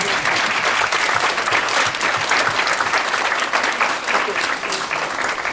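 Sustained, loud applause from a university inauguration ceremony audience, dense and even clapping from many people filling the whole stretch without pause.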